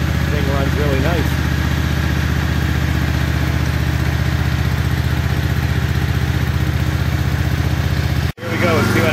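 A warmed-up engine, likely a motorcycle, idles with a steady, even low throb and light mechanical clatter, loud and close throughout, with a brief dropout near the end before it resumes.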